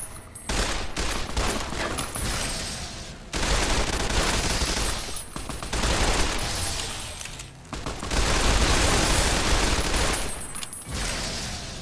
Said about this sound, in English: Oh no, that's the SMG.